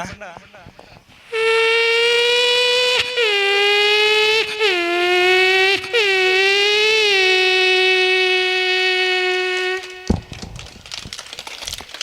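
Voice mimicking a Kawasaki Ninja motorcycle on a mimicry stage, a loud high whining tone held for several seconds with rising rev sweeps, then cutting off abruptly.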